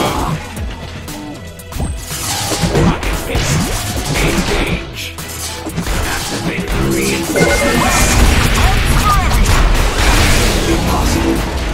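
Heavy smashing impacts and whooshes from a rocket fist attack in the Marvel Super Hero Squad Online game, loud and dense over a busy battle backdrop, with a robotic voice calling out commands.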